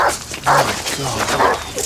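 Several dogs barking and yelping in rapid, agitated bursts, close and loud, over general commotion.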